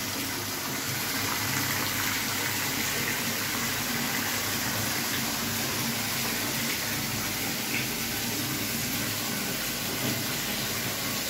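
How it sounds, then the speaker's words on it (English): A tap runs steadily into a bathtub in a hotel room at Maiyan in Nanyuki, a loud, continuous gushing and splashing of filling water that lasts throughout with no pause. "I'm preparing my bath, so water is running down."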